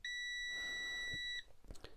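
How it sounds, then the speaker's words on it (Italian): A Tesmen TM-510 multimeter gives its continuity test beep, a single steady high-pitched electronic tone lasting over a second before cutting off into faint handling noise. "se andiamo molto velocemente abbiamo una risposta immediata sul display, però il bip effettivamente parte dopo mezzo secondo"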